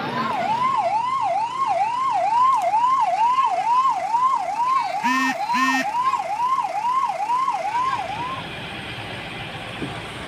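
Fire brigade vehicles at a massive factory fire at a pipe company in Madhya Pradesh sound a loud, steady wailing siren that rises and falls repeatedly. Two short horn blasts break in midway before the siren fades out.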